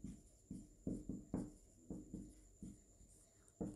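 A pen scratches and taps on paper while given values are written down in a Class 9 maths lesson, with a steady series of short, close, quiet strokes and no talking.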